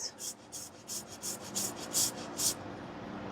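Fresh ginger scraped or grated in about eight short rhythmic rasping strokes, close and quiet, with no talking.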